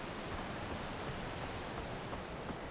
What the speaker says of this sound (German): Dann ist ein Wasserfall.